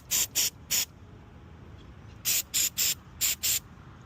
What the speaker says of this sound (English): spray just the center